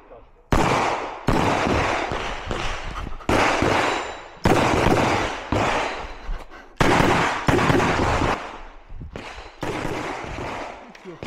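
Bursts of rapid gunfire from an IPSC shooting competition come in repeated strings a few seconds apart, loud and sharp, with short pauses between volleys.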